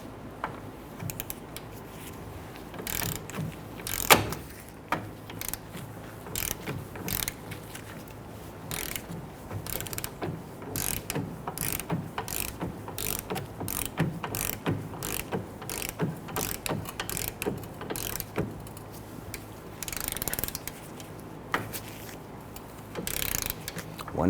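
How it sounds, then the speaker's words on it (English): A vehicle lift lowers a 2006-2010 Honda Ridgeline in a repair shop, giving a steady run of close ratcheting clicks over a low mechanical hum that lasts throughout without talk. "our vehicle is just starting to move off of our lift"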